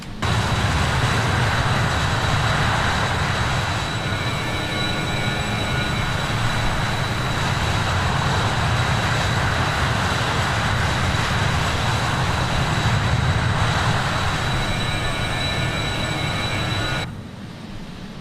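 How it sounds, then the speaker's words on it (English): Jet engines of an Avro RJ85 airliner in Microsoft Flight Simulator 2020, a loud, steady broadband roar with a sustained high whine, continuous for the whole stretch before dropping off abruptly at the end. "Let's give you some engine noise."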